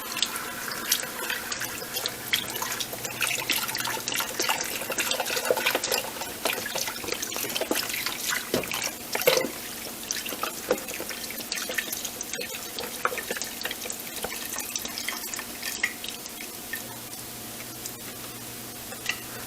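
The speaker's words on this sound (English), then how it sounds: "you want to take your chicken broth and pour it over the chicken." Chicken broth poured from a carton over chicken in a pot while making homemade tortilla soup, a steady close splashing liquid stream running continuously with small drips and clinks throughout.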